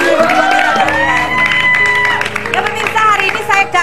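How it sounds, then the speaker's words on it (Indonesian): Studio audience on an Indonesian TV talk show breaks into loud applause with cheers and whoops, a dense crowd swell filling the whole moment with voices mixed in. "tepuk tangan buat Ilham"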